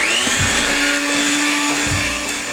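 A kitchen blender whirs steadily, churning sweet potato pie filling made with butter, a continuous motor hum that stays loud and even throughout with no talking.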